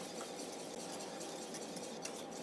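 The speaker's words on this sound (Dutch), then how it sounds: "we roeren hem even door met de garde" A whisk stirs mascarpone sauce in a pan, giving a steady, continuous soft scraping and swishing close by, with no one talking.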